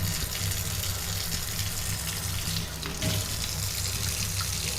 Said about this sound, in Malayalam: എൻ്റെ മുഖം കഴുകാം.